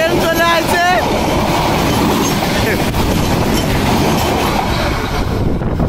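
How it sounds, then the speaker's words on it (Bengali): A passenger train rolls past at Dilpasha bridge in Bhangura, Pabna, close and loud, a continuous wheel rumble with squealing at the start, while a voice speaks over it. "এদের মধ্যে ট্রেন চলে আসছে"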